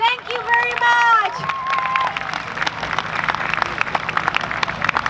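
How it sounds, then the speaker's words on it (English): A crowd breaks into sustained applause, dense clapping building after a shouting voice, continuing steadily to the end. "Let's give a big round of applause to Gilberto Rodriguez and Ariana Rodriguez."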